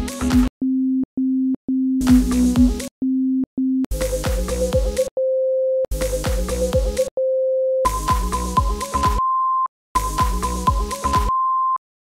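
Synthesizer tones play in separate bursts at rising pitches, loud and clean, a low tone pulsing in short repeated blips, then sustained notes stepping up to a middle and finally a higher pitch, with silent gaps between phrases.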